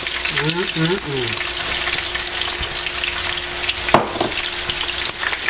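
Sauces hit a venison backstrap frying in a pan, setting off a steady loud sizzle with a few utensil clinks and a brief voice in the background.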